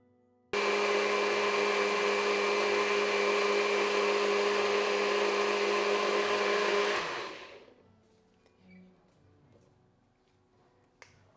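Kitchen blender puréeing tomato and peach gazpacho, a loud steady whir that starts abruptly and runs about six seconds before spinning down to quiet, with no talking.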